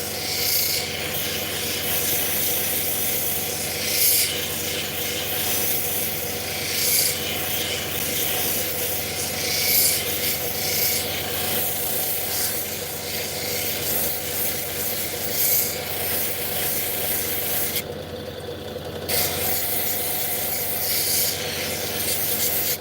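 Steady hand sanding of fire obsidian with 1200 grit sandpaper, a continuous close rubbing hiss that runs almost unbroken, with one brief pause near the end.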